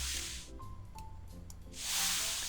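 Paint spraying in the video game Reshine: two broad, steady hissing sprays, one at the start and a louder one toward the end, with a quieter stretch of faint clicks and tones between them.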